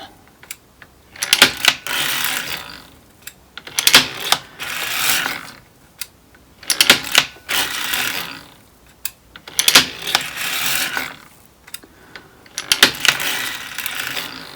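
An NZAK circular sock knitting machine is cranked in repeated bursts, a sharp clattering and ratcheting of needles and gears in close, loud rhythmic passes separated by short pauses.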